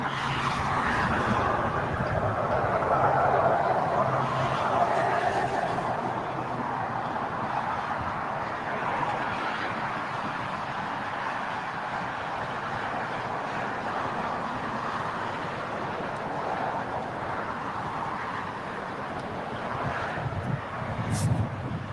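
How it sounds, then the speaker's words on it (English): An ANA Boeing 777 moving toward departure on runway 25 right, a distant broad jet-engine roar that stays steady under wind noise. "we've got ANA 777 making his way over for departure on 25 right"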